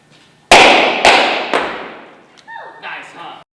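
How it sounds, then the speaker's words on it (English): Homemade firecrackers go off indoors in a comedy stage play: three sharp, loud bangs in quick succession, each trailing into a fading crackle, followed by lighter fizzing pops. "Look at these new firecrackers we just made up, Penny."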